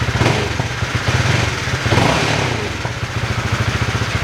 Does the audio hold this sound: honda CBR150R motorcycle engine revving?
yes